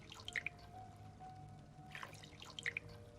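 Distilled water trickles and drips into a container in small splashy bursts at moderate volume, with no one talking.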